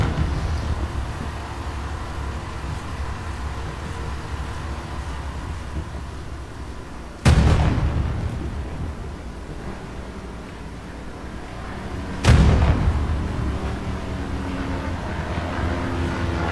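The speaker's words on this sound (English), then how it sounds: "Flank tank back in the action, popping shots." Two heavy tank cannon shots from a Sherman-era war video game, each a sharp loud blast spaced about five seconds apart, over a steady low engine rumble with no talk.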